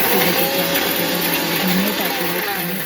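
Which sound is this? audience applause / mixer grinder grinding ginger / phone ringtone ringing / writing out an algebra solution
mixer grinder grinding ginger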